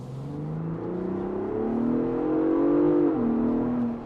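A Ford Raptor engine in its loud Baja mode revs up through a rising, building roar, holds near its peak, then drops back briefly before easing off, heard close with no voices.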